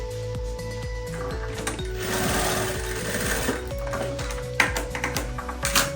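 A sewing machine stitching a fabric phone holder pocket, running in rapid, steady bursts close up, with mechanical tapping and a few brief pauses and speed changes.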